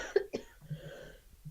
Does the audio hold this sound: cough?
yes